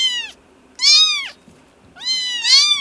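Cats meowing loudly and close, three long, drawn-out cries with short pauses between them and no other sound.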